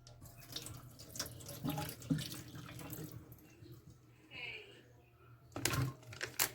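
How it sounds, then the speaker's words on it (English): Water from a tofu package splashes and gurgles as it's poured out, with quiet handling noises and a brief burst of running water near the end. "I'm going to pour the water out."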